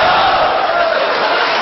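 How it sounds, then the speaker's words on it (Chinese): A live audience at a Chinese crosstalk comedy performance heckles and clamors together, a loud, continuous roar of mixed voices that holds steady for the whole moment. "这叫起哄啊！"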